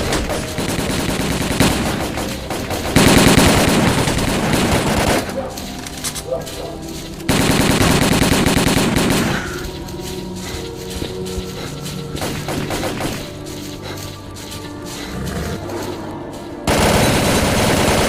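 Sustained automatic gunfire in the S.T.A.L.K.E.R. video game around Pripyat, loud bursts of rapid shots broken by short pauses and volleys from more than one weapon, near and dense throughout.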